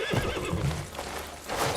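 Brief, close horse whinny over soft hoof clip-clops in the open-world game Crimson Desert, with no talking.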